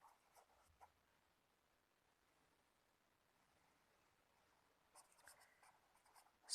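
Hand writing on paper gives soft scratching strokes in short bursts, first near the start and again toward the end, with quiet gaps between.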